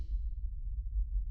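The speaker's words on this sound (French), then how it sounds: "Vous entendez les battements de vos cœurs" A heartbeat sound effect plays as a low, muffled throbbing pulse beneath a silent scene, steady and close.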